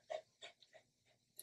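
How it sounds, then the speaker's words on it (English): A dog panting after running around outdoors, a quick run of soft, breathy bursts in an even rhythm, faint and close, with no voices. "Oh, that dog is panting."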